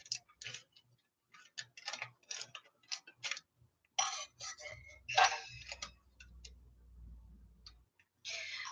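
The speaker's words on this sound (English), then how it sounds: "Say you come across a pair of scissors that don't even freaking cut worth a damn. Like this." Dull household scissors snip repeatedly at a plastic bag without cutting through, giving a run of crisp close clicks and crunchy chomps in an uneven rhythm, with a low rumble underneath toward the end.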